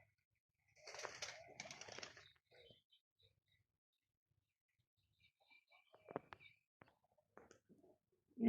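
Pigeons coo faintly in short, scattered calls in a quiet setting, mixed with a few light clicks and brief bursts of activity, loudest early and again near the end.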